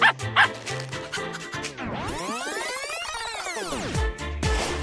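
A dog yips and barks several times up close, with high whining, sweeping yelps in between. Faint speech sits under it.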